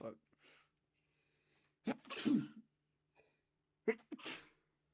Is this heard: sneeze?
yes